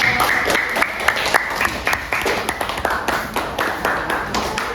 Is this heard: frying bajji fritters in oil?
no